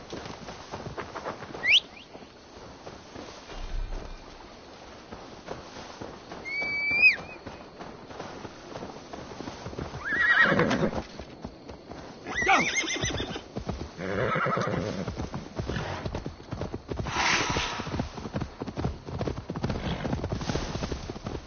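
Horse in Assassin's Creed, several shrill neighs and whinnies over clip-clopping hooves and rustling footsteps, fairly close, with a few bird-like chirps and no talking.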